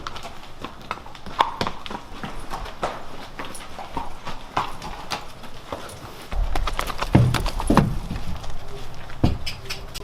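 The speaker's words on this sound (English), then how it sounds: "This is where we're gonna bring the horses down." Horse hooves clip-clop on the floor of a rodeo barn in San Antonio, a steady run of close hoofbeats with a few louder heavy steps near the end and no talking.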